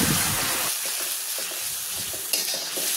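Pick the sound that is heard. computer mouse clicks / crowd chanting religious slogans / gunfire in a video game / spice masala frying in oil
spice masala frying in oil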